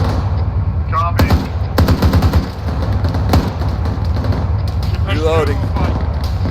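Gunfire in a military video game: bursts of automatic shots and single cracks ring out at close range, mixed with radio-style team voice chatter and a whizzing pass near the end.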